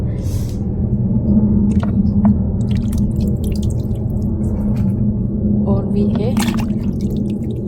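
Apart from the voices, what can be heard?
squeezing water out of fermented bamboo shoots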